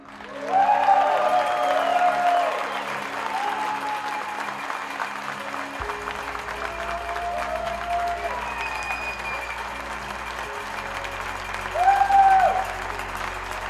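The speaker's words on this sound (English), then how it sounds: "As we celebrate, let's give him a big cheer." Applause from the audience at the 2019 Pikes Peak International Hill Climb award ceremony, given as a tribute to racer Carlin Dunne: a steady wash of many hands clapping that carries through, with a louder swell near the end.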